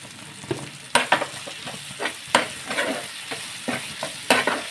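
Chopped tomato and grated coconut sauté in a hot pan for a hotel-style bhindi masala, a soft sizzle broken by repeated scraping strokes of a spatula at an uneven rhythm, close by.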